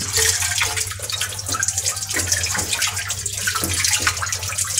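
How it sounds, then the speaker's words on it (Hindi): Steady stream of tap water running into a basin while something is rinsed, a continuous close splashing gush with slight irregular sloshing throughout, no talking. "यहाँ पे है मेरा बेसिन और इसको हम धो लेंगे।"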